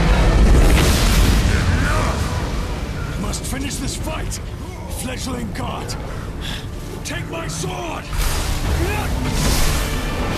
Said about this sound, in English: We're just starting by destroying the ships.